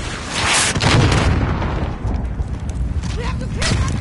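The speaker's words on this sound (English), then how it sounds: "He's still firing the rockets." Rocket explosions in the Modern Warfare video game campaign, a series of heavy booms and bursts with rumbling tails, near and loud, while people talk over the action.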